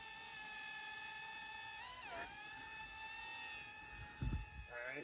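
Rage RC Aeroboard flying skateboard drone hovering in place outdoors, its steady high-pitched multi-rotor whine wavering as it adjusts, with a few low wind bumps near the end.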